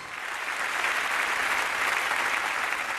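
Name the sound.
audience applause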